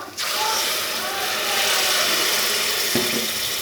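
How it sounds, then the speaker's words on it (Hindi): About a cup of water poured into cooking masala in a pan makes a continuous hissing, sizzling wash of sound that starts abruptly and holds steady, ending with a small clink near the close. "अब इस स्टेज पे मैं डालने लगी हूँ तकरीबन 1 कप जो है वो पानी का"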